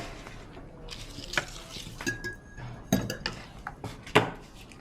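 Dry and wet chocolate cake ingredients are mixed in a bowl, with a utensil scraping and clinking against the bowl in irregular strokes and knocks, close and fairly loud, with no talking.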